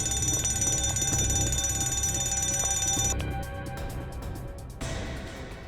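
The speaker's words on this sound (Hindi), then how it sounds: "अलार्म बंद करो जल्दी।" An alarm at an exhibition rings with a loud, continuous electronic tone that switches to a pulsing pattern partway through, then drops back to a steadier sound at the end.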